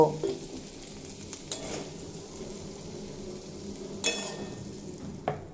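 Fried young jackfruit is scooped out of a kadai, a steady sizzle of hot mustard oil underneath with several distinct scrapes and clinks of a spatula against the pan.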